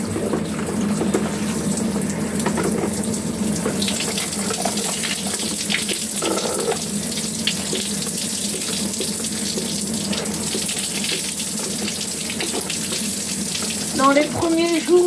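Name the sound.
water running from a tap for hair colouring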